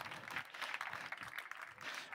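Audience applause for volunteers at a healthy-cooking demonstration during a hospital open day, steady broadband clapping from a sizeable crowd throughout, fairly faint and distant.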